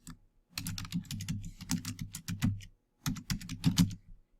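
Fingers type on a computer keyboard in bursts of quick, close clicking keystrokes with a short pause in the middle. No one speaks over it.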